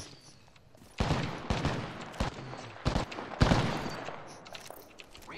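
Gunfire in a video game shooter: a run of sharp, loud shots with a dense burst near the middle, then fading into quieter background noise.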